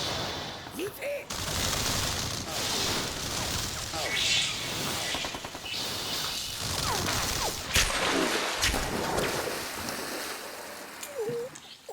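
Dense anime gunfire as thousands of bullets rake a narrow castle corridor, a loud, nearly unbroken barrage of rapid shots and impacts lasting around twelve seconds.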